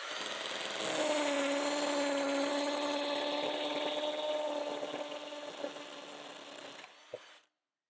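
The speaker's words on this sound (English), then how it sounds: "So I'll go ahead and drill this hole right here" A power drill bores a hole into a plywood shop wall, a steady close whine holding for about seven seconds before cutting off abruptly.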